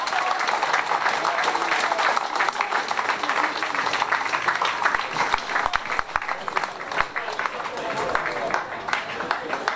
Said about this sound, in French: Merci d'applaudir tous ces champions.